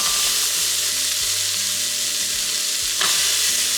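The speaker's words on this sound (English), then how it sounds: "We're just gonna saute these until they're a little soft." Onions, celery and carrots sautéing in olive oil in an Instant Pot give a loud, dense, continuous sizzle with a low hum beneath and one brief clatter near the end, no voices.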